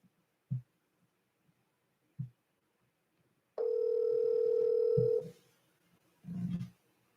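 A telephone line sounds a steady tone for under two seconds while a call is being placed, framed by faint dull thumps before and after, quiet and close with no talking.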